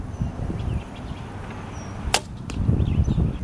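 An arrow is shot from a bow during target practice, a single sharp crack followed by a second impact snap, with outdoor ambience around it.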